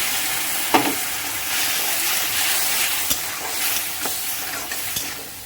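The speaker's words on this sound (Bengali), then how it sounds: "ভালো করে মশলাটা একটু আমি ভেজে নেব" Spices sizzle and crackle steadily in a hot pan, with occasional sharp scrapes of stirring.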